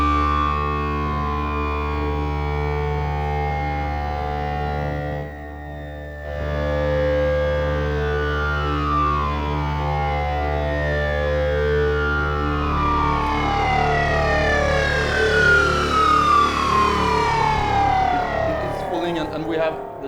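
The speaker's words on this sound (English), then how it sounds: "using the Genie oscillators, we did another kind of shepherd tones where the harmonic shifting" Shepard tones from Genie oscillators used in sound design for Dune 2, a loud, dense stack of harmonics sliding steadily in pitch with a distorted, siren-like sweep that seems to fall endlessly, sustained for about twenty seconds.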